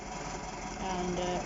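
The Perkins diesel of a small shunting locomotive nicknamed Tractor runs with a steady, faint throb that swells slightly as it moves on a narrow-gauge railway.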